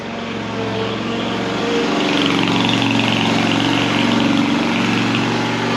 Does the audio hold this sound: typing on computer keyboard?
no